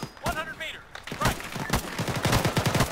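Machine gun fire in an Arma 3 battle on Altis rattles in rapid bursts, loud and close, while people talk over the shooting.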